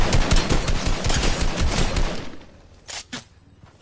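Gunfire in the Fortnite video game, with a rapid, loud automatic burst lasting a couple of seconds, followed by a pause and then two or three separate shots.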